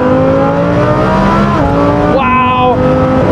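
Lamborghini Huracan Performante engine revving hard and loud up through the gears, pitch climbing steadily then dropping sharply at an automatic upshift before rising again, close and continuous.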